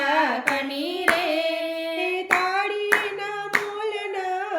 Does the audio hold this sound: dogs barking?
no